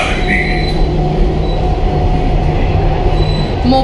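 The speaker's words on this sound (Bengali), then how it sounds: "ট্রেনটা মাটির নিচে ঢুকছে" An Agra Metro train runs as it heads underground, filling the cabin with a steady, loud rumble of wheels on rail and a faint high squeal throughout, with no voices heard.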